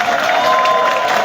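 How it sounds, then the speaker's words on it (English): A crowd at a Ugandan youth political rally claps and cheers, forming a loud, continuous wash of many hands with voices mixed in, briefly and close. "Clap for yourselves."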